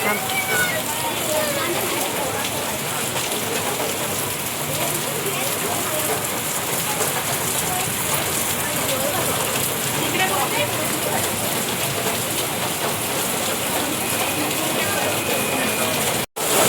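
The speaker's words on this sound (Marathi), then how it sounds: "आता या पावसाला काय बोलायचं सांगा" Heavy rain pours steadily in a dense, unbroken hiss close by, holding the same intensity throughout before cutting off abruptly at the end.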